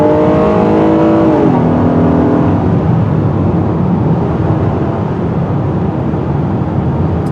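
A 2021 Honda Odyssey minivan's 3.5-liter V6 accelerates hard, a loud steady engine roar with a rising then settling tone as the automatic shifts, continuous and close with no talk.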